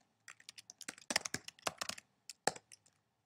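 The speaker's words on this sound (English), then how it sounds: "you type your name, the professor's name," Typing on a computer keyboard, a quick run of clattering key taps in short irregular bursts, close and fairly quiet with no talk.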